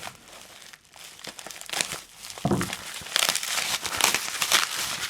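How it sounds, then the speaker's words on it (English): A parcel is unwrapped from bubble wrap packing, producing close, loud bursts of crinkling and rustling plastic in irregular handfuls with brief pauses between. "So let's take this out of the packing. Unwrap."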